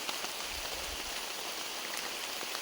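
Heavy rain pours steadily during a multi-day river kayaking trip on the Brda, a dense continuous hiss of drops hitting water and surfaces close by, with no voices.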